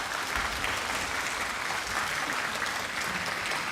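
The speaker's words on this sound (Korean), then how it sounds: "한번 우리 더 오케스트라에게 큰 박수 부탁드립니다" A concert audience at an orchestra's regular concert in Sokcho gives the orchestra sustained applause, a continuous wash of many hands clapping at moderate distance with no break.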